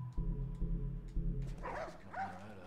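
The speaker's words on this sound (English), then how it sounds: "Oh, look at the doggy." Dog barking in The Last of Us, a few low thumping barks in quick succession followed by whining, higher-pitched yelps, with a steady game background hum underneath.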